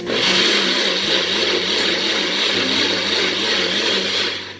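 A NutriBullet personal blender blending celery whirs steadily at high speed without water, loud and continuous, with a slight shift in motor pitch partway through before it winds down.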